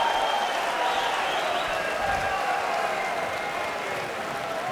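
Crowd clapping steadily at a Mosconi Cup pool match, a sustained dense wash of applause filling the arena from start to finish, with faint background murmur.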